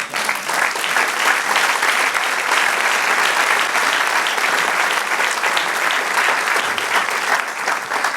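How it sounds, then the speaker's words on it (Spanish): A congregation applauding during a church service, a loud, sustained, even roar of many hands clapping that fills the whole stretch without pause. "Dale un aplauso, Señor."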